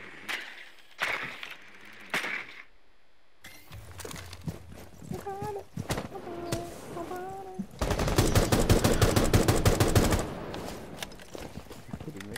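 Gunfire crackles through a multiplayer shooter match, with scattered single shots early, then a long loud automatic burst near the end, mixed with other game noises and voices talking.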